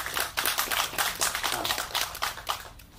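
Applause from an audience at a local press meet for a Tamil film, a dense burst of clapping lasting a few seconds, fairly close and without speech.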